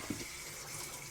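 Water gushes steadily from a sink tap at a campground wash area, a continuous close rushing that lasts throughout, with a faint clunk near the start.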